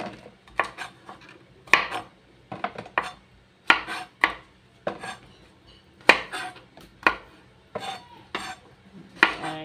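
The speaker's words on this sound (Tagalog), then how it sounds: "At hihiwain na natin yung okra." Okra being sliced for shrimp sinigang, with a knife striking a cutting board in uneven clusters of sharp, close chopping taps and short pauses between them.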